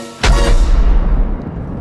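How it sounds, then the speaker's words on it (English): A single loud cannon blast booms with a sharp onset, then a long rumbling decay that fades over more than a second. "Eric lit the cannon's fuse and..."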